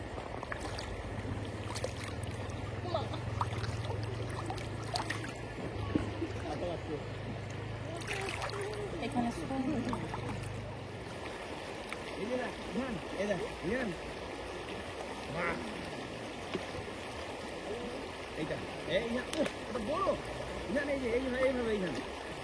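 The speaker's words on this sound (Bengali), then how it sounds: "সেই জলপ্রবাহটা যথেষ্টই জোরে আছে" The Jayanti River in Buxa Forest runs strong and fast over its bed, a steady broadband rush of flowing water with light wind buffeting, and a low hum in the first half.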